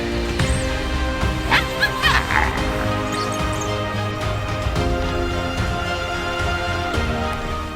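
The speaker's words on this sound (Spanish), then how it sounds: "Sus agudos ladridos retumban por las llanuras" Wild dogs on an African plain bark and yip in sharp bursts over a steady noisy background, several calls clustered near the start and a few more scattered through, fairly close.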